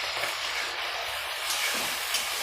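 Chopped onions, about 200 grams, hit a hot pan already holding cloves and whole garam masala for chicken curry, giving a steady, even hissing sizzle that stays close and continuous throughout.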